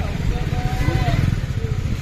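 A vehicle engine runs on a street in Puri, giving a steady low rumble that continues throughout, with voices talking nearby.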